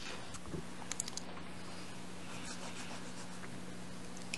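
A pen scratching out notes at a tabletop Dungeons & Dragons session, with faint irregular strokes and light taps against a steady low hum and no talk.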